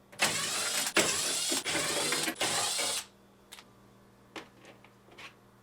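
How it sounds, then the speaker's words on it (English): A power nut driver with a 1/4 inch bit whirs in four short bursts while removing bolts from a GE refrigerator freezer slide holder, followed by a few faint clicks and taps. "Using a 1/4 inch nut driver, remove these 4 bolts holding the slide holder in place."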